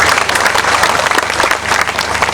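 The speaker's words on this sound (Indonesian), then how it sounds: "Tepuk tangan lagi buat dia." Audience at a Maiyah gathering applauding, a loud dense wash of many clapping hands that holds steady throughout the short stretch.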